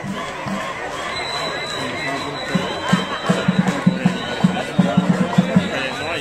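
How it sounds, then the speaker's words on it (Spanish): A crowd at an outdoor baton and band competition in Calarcá claps in quick, uneven bursts over a steady murmur of voices and cheering, with the clapping building toward the end. "El aplauso para el equipo de Corfabi."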